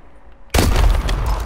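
Weapon fire in Call of Duty: Advanced Warfare, a sudden loud blast after a quiet moment, followed by a sustained booming, rumbling burst of gunfire.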